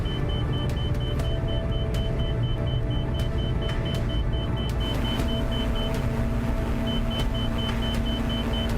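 A video-game aircraft engine roars at full throttle while flying into a tornado, a loud continuous drone with steady rumble and periodic faint clicks, heard alone without talk.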